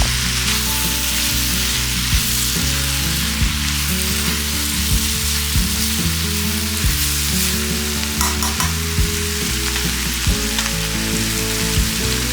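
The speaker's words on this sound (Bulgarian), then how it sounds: "Запържвам леко зелето, само колкото да умекне малко." Shredded sauerkraut frying in fat in a pan, a loud continuous sizzle with crackling pops and occasional stirring scrapes, heard up close without talk.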